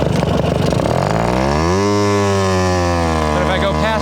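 A Garelli SSXL moped engine drones loudly and close, its pitch rising and wavering as it breaks up roughly past half throttle.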